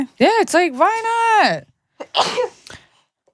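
A single sharp, breathy sneeze bursts out after a person's short spoken phrase, close to the microphone in a quiet indoor setting.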